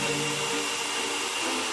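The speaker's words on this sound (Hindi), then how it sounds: "और हेयर ड्रायर से सुखाओ।" A hair dryer runs steadily, drying glue on tissue paper for a Halloween makeup effect. Its loud, constant whoosh fills the whole stretch with no talk.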